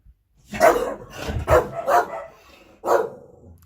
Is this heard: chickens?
no